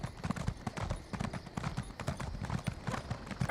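A slow horse in the Elder Scrolls Online game clip-clops along at a steady walking rhythm, hooves close and distinct, with no talking.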